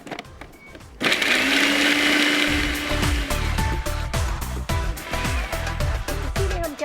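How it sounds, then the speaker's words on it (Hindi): An electric chopper whirs loudly as it chops two onions for a keema spice paste, starting abruptly after a second and running steadily with rattling, clattering pulses of onion pieces hitting the blade. "2 प्याज को यहाँ चॉपर में डालते हैं"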